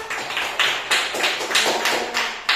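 A classroom of students claps after a group presentation, a series of loud, sharp bursts of hand clapping in an uneven rhythm, close and distinct with no talking.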